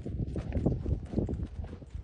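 Quick, uneven hoofbeats thud on soft ground as a sorrel horse trots close by, a brief burst of rhythmic clopping.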